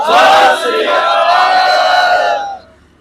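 A crowd gathered at a protest meeting roars a Sikh jaikara in unison, one loud sustained collective shout that fades out at the end.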